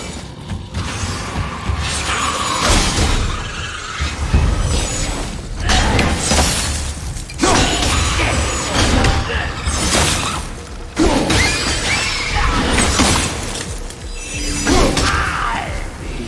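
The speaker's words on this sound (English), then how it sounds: "I will never get tired of shattering things with this." Objects shattering in God of War, a series of loud crashing breaks and crumbling debris bursts recurring every couple of seconds amid mechanical clanks and rattles, with no talking.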